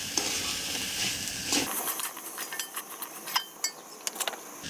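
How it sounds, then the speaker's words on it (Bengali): Potato pieces stirred with spices in a pan for a potato and dried-fish curry with fresh cham greens, giving scraping, clinking strokes over a steady sizzle that eases after the first seconds. "টুকরো আলুর সাথে আবারও মশলাগুলো মিশিয়ে নিচ্ছি।"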